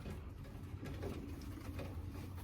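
A baby wood pigeon that fell from its nest and is now hand-reared coos softly and faintly over a steady low background hum, with no voices.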